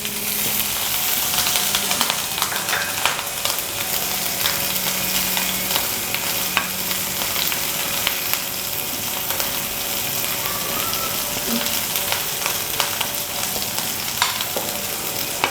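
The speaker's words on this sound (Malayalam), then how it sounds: "പച്ചമണം പോണ വരെ നന്നായിട്ട് നമുക്ക് അങ്ങോട്ട് വഴറ്റി കൊടുക്കാം" Ginger and garlic sauté in a hot pan for stuffed squid, a constant loud sizzle broken by repeated scraping stirs and clicks throughout, with no talk.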